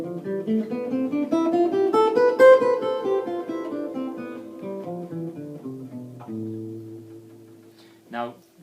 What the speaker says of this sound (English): Basically that was a demonstration of A natural minor scale.